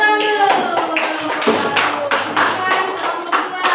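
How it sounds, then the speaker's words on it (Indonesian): Classroom students clap their hands in a dense, uneven burst that carries on throughout, close and fairly loud, with voices mixed in. "Tepuk tangan dulu."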